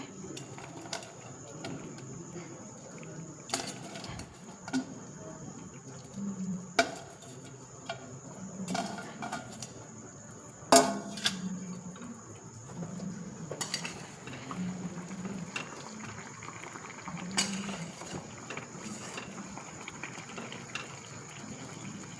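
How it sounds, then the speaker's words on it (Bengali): Fried pakoras are eased into a pan of pineapple chicken, giving soft clinks and scrapes of utensils against cookware with a faint sizzle and a steady high background hum, plus occasional quiet sounds in the room. "এবার আমি ওর মধ্যে এই যে পকোড়াগুলো বানিয়ে রেখেছিলাম সেগুলো দিয়ে দিচ্ছি আস্তে।"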